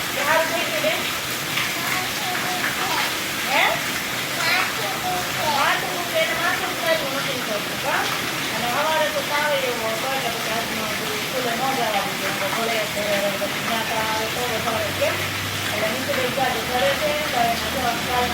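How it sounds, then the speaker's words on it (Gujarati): Rain falls steadily in the background while people talk over it throughout. "વરસાદ ચાલુ થઈ ગયો છે"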